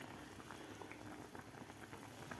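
Shengole dumplings boiling in water in a kadhai, a soft, even bubbling and light patter that runs through the whole stretch, faint and close, with no voices.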